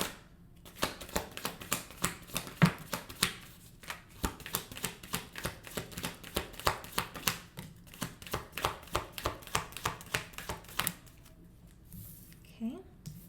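A deck of cards riffles and snaps in quick, rhythmic bursts, close up, with brief pauses between shuffles.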